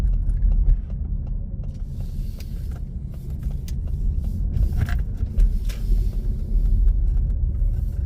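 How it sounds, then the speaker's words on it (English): Steady car engine rumble from inside a vehicle braking down from fifth to second gear as it turns into a garden centre car park, one gear change, constant low drone throughout. "bringing the speed down on the brakes, fifth to second, 1 gear change"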